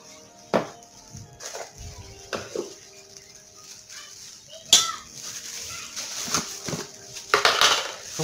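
A teaspoon scoops seasoning powder for braised pork knuckle in a home kitchen, making close clinks and scrapes of metal against a container, with several sharp taps spread through and faint room noise between them.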